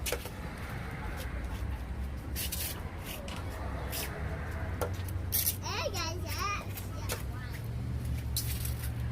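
Water sprayed outdoors in front of a house makes a steady hiss throughout, with children chattering and calling nearby.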